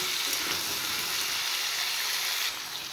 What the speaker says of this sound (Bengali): এবার একটু সাঁতলে নেব আলু আর লাউ।